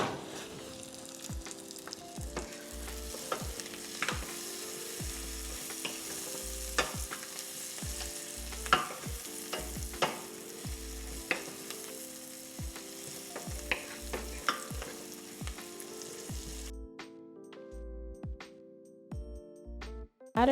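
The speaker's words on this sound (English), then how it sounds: "I'm gonna go ahead and put our onions in the pan and let those saute up" Onions sautéing in a pan for käsespätzle, a soft steady sizzle with spoon clicks and stirring scrapes, while music with a regular beat plays over it and no one speaks.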